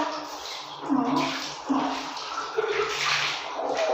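A dog named Anino is bathed by pouring water from a dipper, producing splashing and trickling water sounds close by, with a person talking softly in between.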